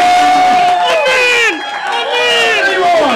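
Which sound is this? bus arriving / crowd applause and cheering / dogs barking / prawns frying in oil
crowd applause and cheering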